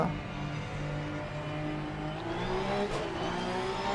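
Porsche Cup race cars in Assetto Corsa Competizione at Paul Ricard roaring off the start in a dense pack, engines revving and climbing through the gears in a steady, loud, continuous drone.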